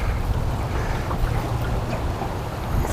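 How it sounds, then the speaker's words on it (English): Strong, gusty wind on a lake roars and buffets steadily across the whole stretch, with a low rumbling and broadband rushing noise, loud and close, with no talk. "Got real strong winds today."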